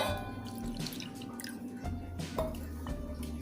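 Strained tamarind juice poured into a cooking pot for a fasting-day chutney, heard as close, irregular drips and splashes of liquid over a low background hum.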